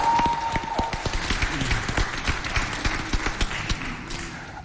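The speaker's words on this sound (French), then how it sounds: "Applaudissez pour eux." A crowd applauds performers at a cultural show with scattered, uneven claps and a few loud nearby hand strikes, a tone briefly sounding at the start and crowd noise underneath.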